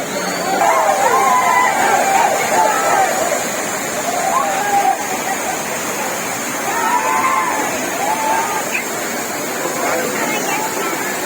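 Courtallam waterfalls illuminated with electric lights for the Saral festival, a continuous loud roar of falling water with sloshing, while a news voice speaks over it throughout.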